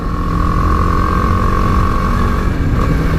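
A 2018 BMW G310GS motorcycle hums along at a steady cruise on the way to a motorway, its engine drone loud and close, joined by wind rush and no voices.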